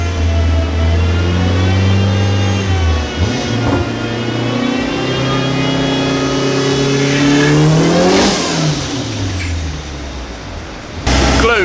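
A turbocharged K20 engine in a Toyota MR2 revs hard on a dyno at Street Racers. The loud, sustained engine tone climbs steadily to a high peak, then drops off abruptly.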